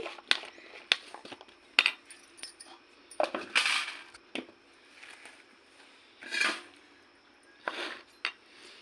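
Coconut pickle pieces are mixed with ground spices in a bowl, with scattered light clinks and scrapes of a spoon against the bowl, quiet and irregular, some taps sharper than others.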